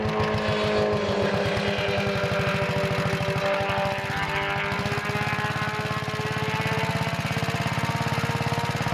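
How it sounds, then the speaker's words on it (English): A motorcycle passes by outdoors, its engine a loud steady drone with a rapid pulsing rhythm that swells and shifts pitch midway, dominating the scene throughout. "I have to wait till that motorcycle goes by to hear it."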